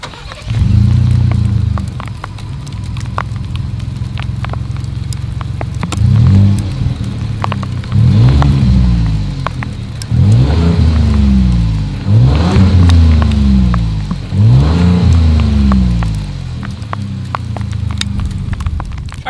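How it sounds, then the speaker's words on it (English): A 2020 Ford Expedition Limited idles with a deep exhaust burble, then its engine is revved in several short, loud blips, each rising and falling quickly, before settling back to a steady idle. "As always, here is that exhaust clip."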